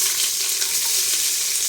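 Ghee sizzles and crackles steadily in a pan while onions fry for ghee rice, a dense, even hiss with no talking.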